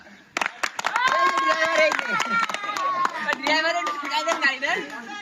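An audience at a football match prize event claps in a loose burst of sharp hand claps, close and moderately loud, while someone talks loudly over the applause.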